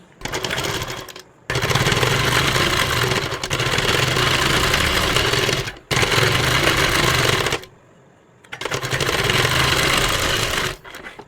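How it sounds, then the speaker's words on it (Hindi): A sewing machine stitches a doubled fabric strip onto a sleeve, whirring loudly in long runs broken by brief pauses and a longer stop. "यहाँ से हम एक पैर की सिलाई लगाते हुए ले जाएंगे"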